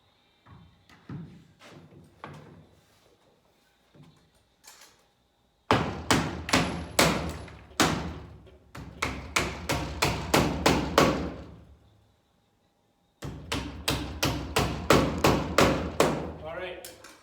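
A hammer drives 2-inch nails into a wall stud while a pocket door kit is installed, with a few light taps first, then two loud bursts of rapid, evenly spaced blows after a pause.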